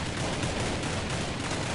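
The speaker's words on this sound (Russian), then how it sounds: "если они всей толпой будут по моей пушке гатить, то они ее убьют" Dense gunfire rattles continuously in the video game Counter-Strike 1.6, loud and close, with rapid overlapping shots and no talking.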